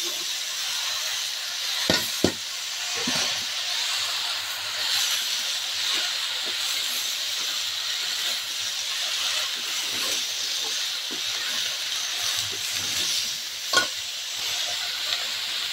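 Vegetables with raw onion, green chilli, salt and turmeric cook in a pan with a steady loud sizzle and hiss, broken by a few sharp clacks of a stirring spoon.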